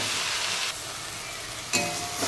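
Jute leaves cooking with prawns in a pan give a steady frying hiss with stirring, which drops quieter partway through and then swells again with a scrape; close, no voices.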